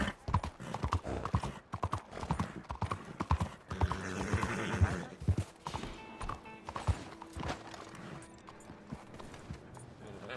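A horse gallops in a video game, hooves clip-clopping in a rapid, steady rhythm throughout, close and loud, with a brief whinny and occasional game sounds mixed in.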